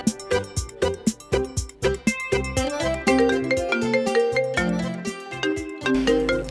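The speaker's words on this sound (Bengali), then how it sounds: "আপা ফোনটা ধরো তো। কে ফোন করছে?" A melodic phone ringtone plays loud and close: a quick run of bright, repeating chime-like notes that continues steadily for several seconds with no talking.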